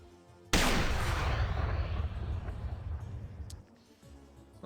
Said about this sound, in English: So that appears to be a TIOW las cannon.